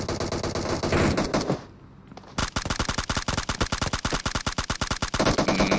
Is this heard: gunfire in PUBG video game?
yes